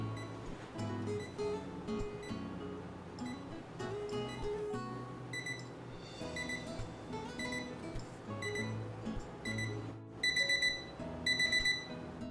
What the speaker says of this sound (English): This is designed with progressive alarms that is gradually increasingly loud and fast to wake you up gently